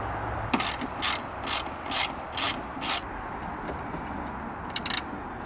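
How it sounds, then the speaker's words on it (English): A 13mm spanner works on the seatbox bolts of a Land Rover Defender 90, giving six short rhythmic ratcheting clicks in a row, then a brief second burst, close and alone. "it's just a 13mm spanner to undo them, so I'll do that now"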